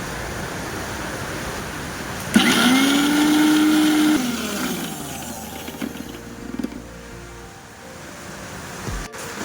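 A kitchen mixer grinder switches on abruptly and blends pointed gourd into paste, a loud whining motor tone for about two seconds before settling into a lower, rougher churning hum that runs to the end.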